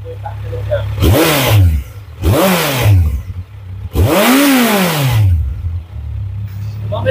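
A Kawasaki Z900 on its stock exhaust revs three times, each blip rising and falling sharply, with a low, steady idle rumbling loudly between them.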